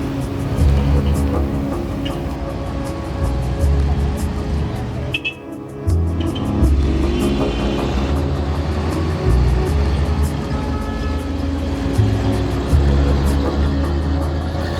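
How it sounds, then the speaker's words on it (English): City street traffic in La Paz, Bolivia, with car engines rumbling and revving close by, steady and fairly loud throughout, a brief dip midway and scattered sharper clicks and knocks. "observing the traffic and what was happening in the streets"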